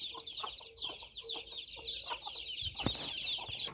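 Hens cluck in short, low bursts while chicks cheep continuously in high, thin peeps, a busy flock close by with a brief knock partway through.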